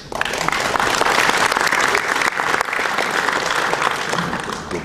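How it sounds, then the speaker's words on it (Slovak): An audience at an event in Trenčín applauds a general, with loud, dense, sustained clapping from a crowd that fills the room from start to finish, close and steady, no talking over it. "A tento výklad, myslím, pán generál Vojtek, zaslúži si to potlesk pre pána generála."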